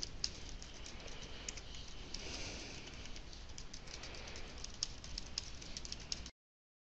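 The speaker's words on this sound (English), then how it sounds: "I'll type it all in and then we'll go back and format it to make it look like we want it." Continuous typing on a computer keyboard, a steady stream of close, light key clicks with occasional louder keystrokes, likely the Enter key, running for about six seconds before stopping.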